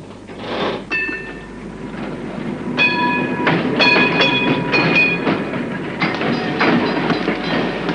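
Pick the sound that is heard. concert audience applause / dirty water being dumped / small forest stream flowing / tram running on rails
tram running on rails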